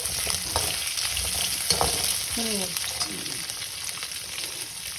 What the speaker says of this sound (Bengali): আলু দিয়ে আবার আলু দিয়ে বেগুন দিয়ে একটু নাড়াচাড়া করতে হবে।